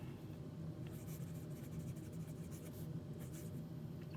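Lamy Safari fountain pen in the Violet edition, medium steel nib, writing on paper: a soft, steady scratchy hiss with faint repeated stroke ticks, close and quiet over a low background hum.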